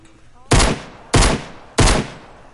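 Three loud, close gunshots from a Roblox Jailbreak video game, evenly spaced about half a second apart, each a sharp crack with a short decaying tail.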